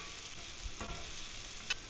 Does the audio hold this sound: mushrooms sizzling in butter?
yes